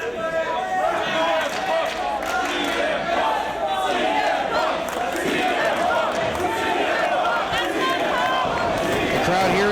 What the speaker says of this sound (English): The crowd here in New Jersey showing their support for CM Punk.